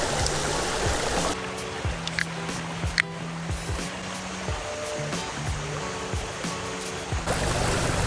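A flowing creek on a fine day, its steady broadband wash and trickle running continuously near at hand, with faint tonal hum and soft clinks in the background and no voices.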